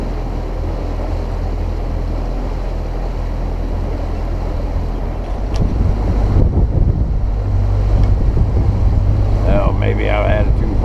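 Mercury outboard engine on a boat during break-in running with a steady low drone under heavy wind and water noise, growing louder midway, with brief voices near the end.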